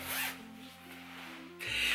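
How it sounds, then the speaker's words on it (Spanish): A zipper running down the back of a jumpsuit being pulled, a close rasping zip that rises, eases off briefly, then returns louder at the end. "por detrás tiene una cremallera"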